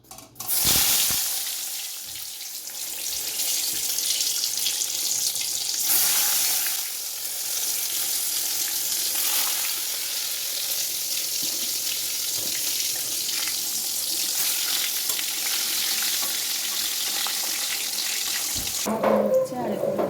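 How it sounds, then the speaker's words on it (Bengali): Eggplant slices fry in hot oil with a loud, steady hiss and crackle that begins with a sharp burst and sizzles continuously for about twenty seconds, with occasional clinks of cookware. "তো তেল গরম বসিয়ে দিয়েছি, এখন এক এক করে বেগুন ছেড়ে দেবো।"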